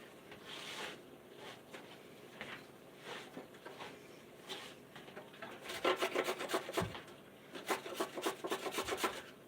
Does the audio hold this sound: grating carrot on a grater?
yes